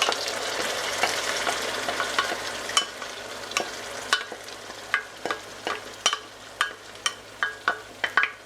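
Tomatoes go into a hot frying pan of celery and onions for Sicilian caponata, setting off a steady sizzle. Close, repeated scraping strokes of a stirring utensil grow more regular and pronounced, with no talking over them.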